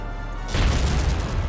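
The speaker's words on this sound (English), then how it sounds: "Mortar." A mortar shell explodes in the Valkyria Chronicles strategy game, arriving as one sudden, loud, deep boom after a quiet half-second lead-in, then a long, rumbling crackle of debris that stays heavy to the end.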